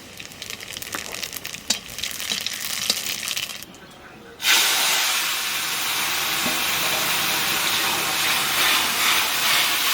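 Garlic and black cumin hit hot oil for a tempering: quieter kitchen clatter gives way to a sudden loud, sustained sizzling hiss that carries on steadily.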